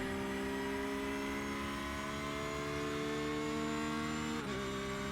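Porsche GT3R race car engine at Interlagos in the iRacing sim, a sustained in-car engine drone held through a corner with a brief shift blip near the end.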